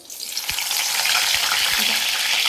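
Curry leaves hit hot oil in a pan and set off a loud, bright sizzle that swells within the first half second and then crackles on steadily, with a few faint low knocks underneath.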